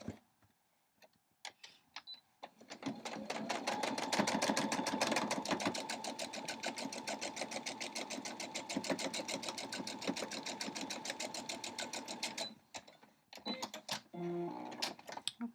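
A sewing machine stitches a scrappy quilt block in a long rapid run of needle strokes, a close rhythmic whir with brief starts and stops near the beginning and end.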